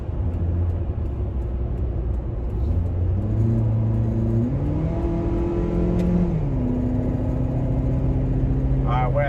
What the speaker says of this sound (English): On the off ramp right now, trying to get onto the highway.